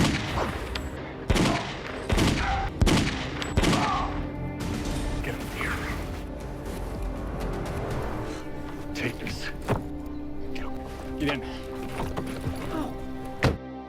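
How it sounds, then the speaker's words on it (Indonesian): Gunfire in an action film scene: several sharp shots ring out in quick succession near the start, then scattered louder cracks follow over a steady score and background noise. "Alex nekat menembaki mereka semua lalu membawa Tasya bergegas pergi."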